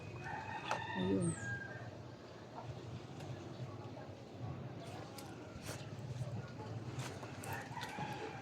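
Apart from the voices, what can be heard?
chickens clucking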